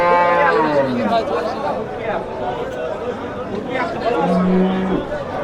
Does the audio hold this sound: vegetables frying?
no